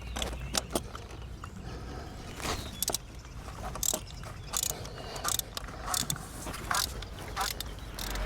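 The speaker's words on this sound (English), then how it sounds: "Let's go ahead and get our socket wrench in there." Socket wrench ratcheting on a spark plug in a BMW 550i engine bay, quiet irregular clicks and short ratchet bursts repeating across several seconds, close up with no talk.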